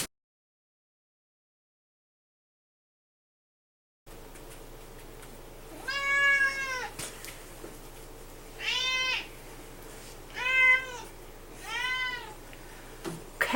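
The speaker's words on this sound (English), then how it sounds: "Say hi to my cat. She's not happy." Domestic cat meowing indoors: after a silent start, four drawn-out, wavering meows come at intervals of two to three seconds, fairly close, over a low steady hum.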